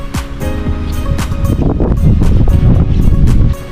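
Strong outdoor wind after a typhoon in a farming area of peanut fields, blowing steadily and roaring close at the microphone, gusting throughout with a low rumble.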